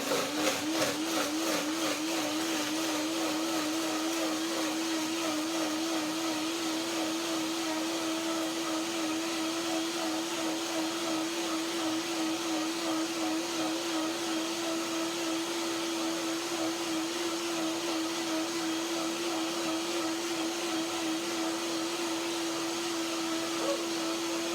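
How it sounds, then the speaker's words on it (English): A blender whirs steadily as it purées blackberries and mangoes in cinnamon cashew milk, a constant motor whine with a slight wobble at the start that holds at an even level for the whole stretch, with no voices. "Blender dance."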